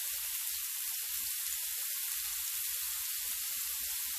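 Pork and other meat grill on a Thai mookata pan at home in near-freezing weather, giving a continuous, even hiss of sizzling fat, close and steady throughout with no talk.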